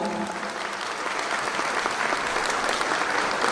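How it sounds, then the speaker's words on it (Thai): An audience at a vocational college skills competition and academic meeting gives loud, sustained applause, a thick steady roar of many hands clapping at once. "ขอเสียงปรบมือดังๆด้วยครับผม"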